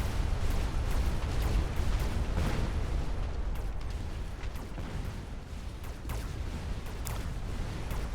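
Mechs destroying an enemy base in the strategy game Mechabellum, heard as a dense, continuous rumble of booms and blasts rolling on without pause.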